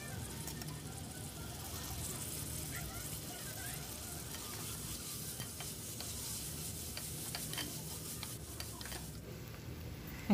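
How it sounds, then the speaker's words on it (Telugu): Mint leaves roasting in a pan for chicken biryani give a faint, steady sizzle with light stirring scrapes, continuous and low throughout. "పుదీనా కూడా బాగా రోస్ట్ చేసుకోవాలి"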